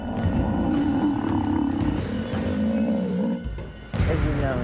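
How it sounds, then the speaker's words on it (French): A buffalo under attack by lions in the wild gives deep, drawn-out moaning distress calls in a continuous close series, mixed with rough growling and roaring from the lions and a brief break near the end. "Le buffle faisait de drôles de bruits qui ressemblaient à des cris de détresse."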